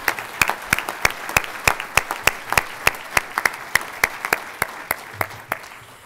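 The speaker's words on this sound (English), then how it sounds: "Let's give them a big round of applause" Applause at a university agricultural college graduation ceremony: a small number of distinct, fairly loud claps at an irregular rhythm over a soft room background, with no talking.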